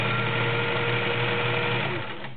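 A vintage all-metal Kenmore Model 1940 convertible sewing machine running steadily, a smooth continuous motor whir with a faint rhythmic clatter, close by and easing slightly near the end, with no talking.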